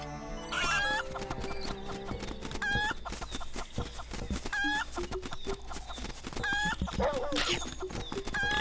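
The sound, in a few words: chicken clucking in video game Link's Awakening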